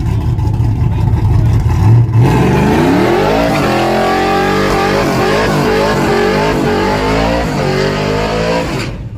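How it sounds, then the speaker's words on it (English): A drag racing car does a burnout at a dragstrip, its engine revving hard and climbing in pitch while the tires spin and squeal, loud and close throughout before cutting off sharply at the end. "he love him a good burnout, y'all"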